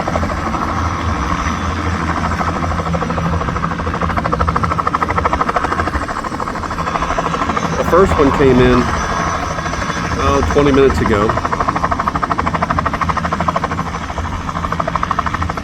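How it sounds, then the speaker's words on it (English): Arriving helicopters' steady, throbbing rotor drone fills the scene at a New England harbor, loud and continuous, while a person speaks briefly over it. "we seem to have helicopters coming in"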